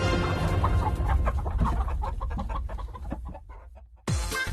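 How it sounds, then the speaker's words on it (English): A hen cackles and clucks close by in a palace backyard, in a run of sharp repeated calls that tapers off and then ends in a sudden louder burst. "awakened by the crowing of a green cock that lived in the backyard of the palace and the cackling of a hen"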